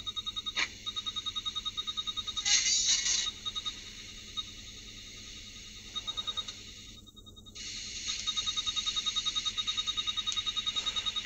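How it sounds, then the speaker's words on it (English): Steady rapid electronic beeping from a radio under repair pulses on and off, dropping out briefly at times, with faint static underneath. "The beeping will go away."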